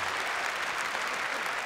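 An audience applauds at a staged show, a dense, steady burst of clapping heard close and alone for a couple of seconds.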